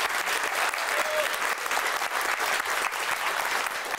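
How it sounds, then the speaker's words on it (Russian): Studio audience applauds the Sretensky Monastery choir and its regent on a television program, dense sustained clapping filling the room with no speech over it. "Ваши аплодисменты."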